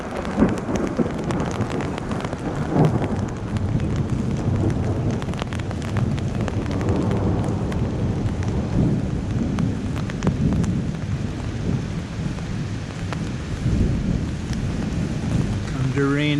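Steady heavy rain pours throughout during a lightning storm in Guadalupe, Colombia, with low rolling thunder rumbling underneath and a faint voice near the end.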